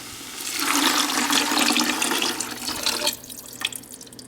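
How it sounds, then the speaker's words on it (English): Tomato juice glugs steadily from a container into a big pot of drained ground meat for homemade chili, a loud close pouring rush lasting about three seconds, then tapering into a few faint trickles and drips. "I start with my tomato juice."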